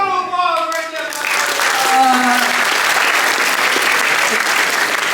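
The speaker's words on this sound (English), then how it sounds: "Round of applause right" Audience applause at a high school presentation, loud and close, with voices at the start giving way to a dense burst of clapping that holds steady.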